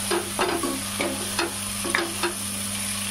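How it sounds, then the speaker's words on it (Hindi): Spice masala for chicken bhuna masala is stirred and fried in a pan over medium heat, a low sizzle broken by several distinct spoon scrapes in a loose rhythm, close and alone. "मसाले को अच्छे से भूनेंगे जब तक इसका तेल बाहर ना आए।"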